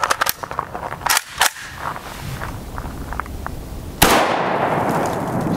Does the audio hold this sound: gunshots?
yes